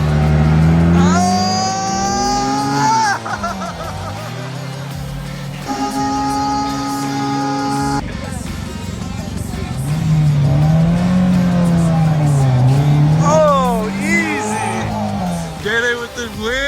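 A Dodge Trackhawk and a Dinan-tuned BMW M4 drag racing, with loud, close engines revving and rising in pitch through repeated gear pulls, and voices mixed in with the engine roar.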